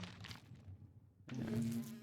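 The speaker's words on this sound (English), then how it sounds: "There's bees around. That's the noise you're hearing." Bees buzz in the Minecraft video game: a thin, droning hum fades out, then returns louder and steadier after a short gap of near silence.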